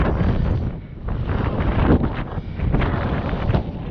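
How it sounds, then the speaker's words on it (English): Steady wind buffets the microphone on a Scottish mountain climb, a loud continuous roar with gusty swells and no talking. "Quite breezy, but it's a nice breeze"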